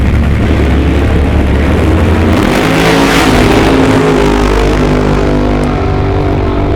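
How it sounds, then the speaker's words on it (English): A nitro drag racing car blasts through the finish line in a final, its engine a loud, sustained roar that swells and fades as it passes close by. "Chuck Lofton puts the Nitro car through the finish line first with his best run of the weekend"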